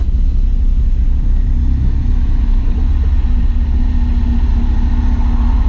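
A Caterham 7 sports car sits alongside, its engine a loud, steady low rumble heard close by from a neighbouring car, continuous and without speech.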